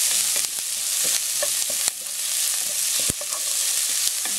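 Onions sauté in a little oil in a pan for meatball soup, giving a steady close sizzle broken by occasional utensil scrapes and taps, with no voices.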